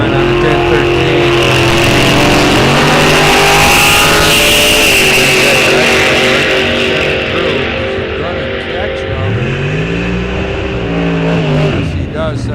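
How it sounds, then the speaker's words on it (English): A dragster at a drag strip test-and-tune session roars loudly and close, its engine revving and rising in pitch as it launches and pulls away, with an announcer talking over the din. "This should be a great drag race here."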